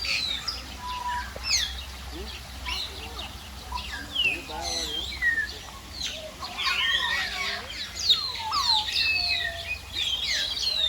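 Many parrots squawk and whistle in overlapping bursts at İzmir Wildlife Park, fairly close and continuous, over low background noise.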